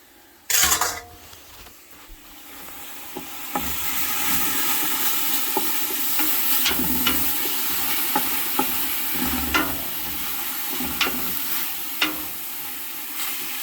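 Onions sizzle and fry steadily in a pan for an Italian gravy sauce, a continuous close hiss with occasional stirring clicks and pops, no voices.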